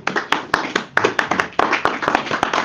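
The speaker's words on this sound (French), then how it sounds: "Acclamez pour le Seigneur" A church congregation claps along in a rhythmic, uneven beat, sharp hand claps landing roughly twice a second, close and lively with a murmur of voices underneath.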